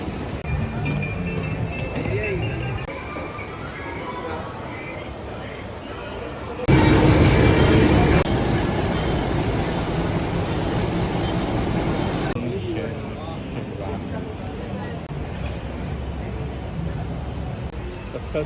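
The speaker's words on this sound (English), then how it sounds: "the train ride back was way less fancy." Inside a passenger train returning from Aguas Calientes in Peru, a steady rolling rumble of the carriage on the rails runs under people chatting nearby, briefly rising louder midway.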